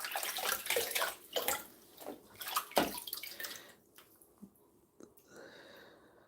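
Fresh greens are rinsed under running water, with uneven splashing and sloshing bursts as leaves are handled one after another, close and moderately quiet, tapering to light drips and no talking.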